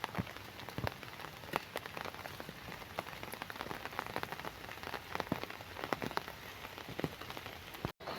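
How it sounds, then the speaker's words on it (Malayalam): Heavy rain falls in Kasaragod district, a dense continuous patter of drops hitting surfaces nearby, with scattered sharper splashes over a steady wash of noise and no talking. "കാസർഗോഡ് ജില്ലയിൽ ഭയങ്കര മഴ."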